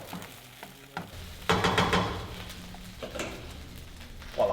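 Rice and eggs frying in a pan, a hissing sizzle that swells loudly about midway with scraping stirs, then settles to a steady crackle before a final burst.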